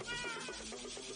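A cat meows repeatedly in the Minecraft video game, several short pitched calls over steady background game sound, close and clear with no talking.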